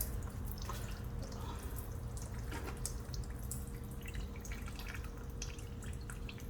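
Fuel drips steadily from a Kubota L2050 tractor during a fuel filter change, a quiet run of small taps and trickles over a low steady hum, with no talking.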